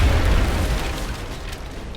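A grenade blast in the XCOM video game, set on impossible difficulty, rolls out as one loud, low, rumbling boom that fades slowly over two seconds.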